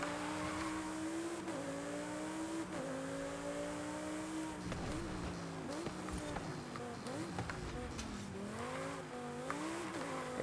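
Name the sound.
Lamborghini Huracan Evo driving in video game Forza Horizon 5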